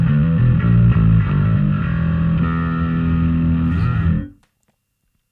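Bass guitar played through a Darkglass Microtubes Infinity distortion pedal, a thick, gritty, heavily driven sustained tone with shifting notes ringing for about four seconds before cutting off abruptly into silence.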